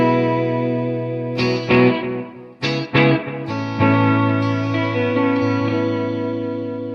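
Electro-Harmonix Vintage Deluxe Memory Man analog echo at a half wet, half dry blend, fed into a Fender Super Reverb amp: sustained guitar chords with a few sharp restrikes, each trailed by a smeared, repeating echo tail that fills the gaps.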